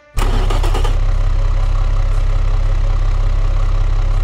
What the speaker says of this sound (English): yes, this is a petrol engine, and it sounds like a diesel engine